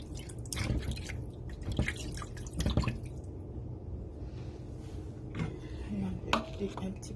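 Water trickles and splashes as fish skin is rinsed in a kitchen while making fish pepper soup, with scattered drips, squishy handling sounds and faint clatter, fairly quiet and close.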